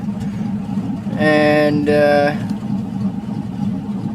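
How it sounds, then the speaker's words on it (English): A car engine idles low and steady, a deep continuous hum close by, while someone talks over it and a brief tonal chime sounds partway through. "car seems to be idling really low right now."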